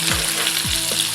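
Turmeric powder goes into a hot pan of drumsticks and potatoes, which sizzle steadily and closely under a constant hiss, while a couple of brief scraping knocks from stirring sound through the short moment.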